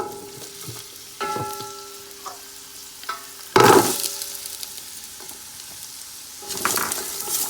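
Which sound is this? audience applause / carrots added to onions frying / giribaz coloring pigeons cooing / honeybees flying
carrots added to onions frying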